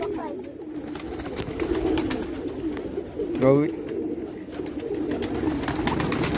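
A pigeon gives a short rolling coo in the middle, standing out over a steady low background hum and faint rustling.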